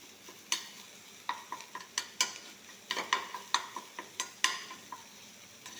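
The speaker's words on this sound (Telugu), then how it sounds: "ఇది తోటకూర తాలింపు" Amaranth leaves being stir-fried as a tempering in a pan, a spatula scraping and tossing in a regular rhythm of sharp clinks over a soft sizzle, fairly close and without talk.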